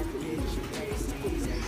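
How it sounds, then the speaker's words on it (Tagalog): Racing pigeons in a loft coo in low, rolling murmurs that overlap steadily through the moment, close and moderately loud over a constant background hiss. "Yan mga kalapatids. Gandang ibon din."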